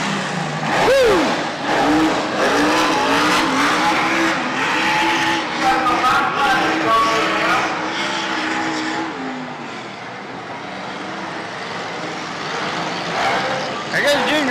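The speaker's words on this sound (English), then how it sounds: "He's tearing it up there." Race cars roaring around a fairground racetrack during a mock race, engines revving and passing with tire noise, loud and close, while someone talks excitedly over them.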